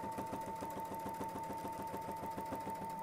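A sewing machine stitches a quilt border along a ruler template, its needle hammering in a fast, even rhythm with a steady motor whine underneath, constant and fairly quiet, no speech.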